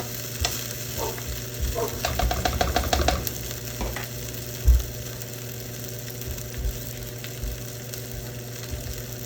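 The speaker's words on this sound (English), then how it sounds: "Let that fry up in there." Fried rice sizzles in butter in a pan with a constant crackling hiss, a quick run of scraping stirs early on and a few scattered knocks later.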